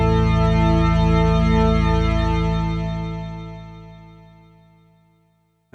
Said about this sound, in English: I'm just going to add in the default delay and reverb.